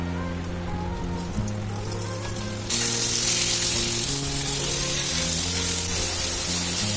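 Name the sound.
cut raw mango sizzling in hot mustard oil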